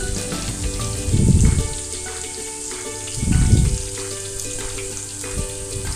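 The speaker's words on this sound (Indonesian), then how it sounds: "Kita goreng sampai kuning kecoklatan ya bunda, sampai harum sekali." Shallots and garlic frying in oil in a pan: oil crackles and sizzles steadily, with two louder bursts of low rumbling sizzle as they are stirred around.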